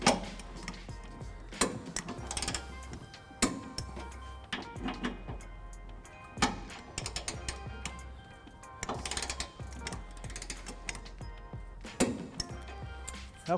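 Wrench tightening trailer hitch bolts on a 2011 Nissan Frontier, a series of close metallic clicks and clinks in irregular bursts with soft knocks between them.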